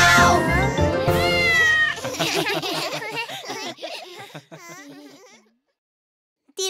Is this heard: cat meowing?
yes